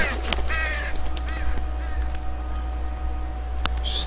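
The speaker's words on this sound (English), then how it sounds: "Stupid birds." Crows caw in the woods in the video game The Walking Dead Season 2, several harsh calls spaced across the clip over a low steady ambient hum, with a final caw near the end.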